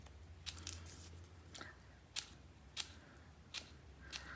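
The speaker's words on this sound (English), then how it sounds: "I find this is easy to do with my smaller scissors, just because they've got a lovely sharp pointy set of blades to them." Small, sharp, pointy scissors fringe-cut a paper circle, giving a series of crisp, close snips spaced about half a second apart over quiet background.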